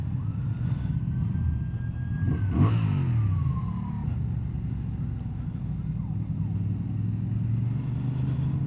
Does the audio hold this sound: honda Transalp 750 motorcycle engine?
yes